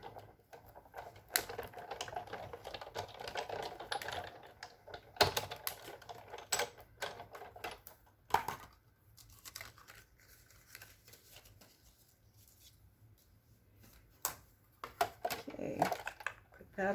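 A die-cutting machine cranks paper and a taped image through its rollers, giving a close, steady rattle of clicks with a few sharper knocks, while a person talks at times.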